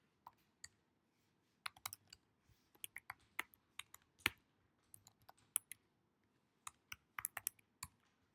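Java code is typed on a computer keyboard in quick, uneven bursts of crisp, close key clicks with short pauses between runs, set against a quiet room with no speech.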